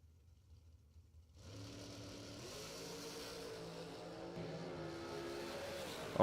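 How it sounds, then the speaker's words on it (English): A drag racing dragster engine starts up at a drag race, a steady droning hum that holds on and builds slightly louder toward the end, heard from a distance. "near lane, we got Art Vandelay in the Vandelay Industries dragster"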